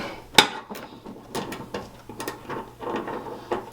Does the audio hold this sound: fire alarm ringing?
no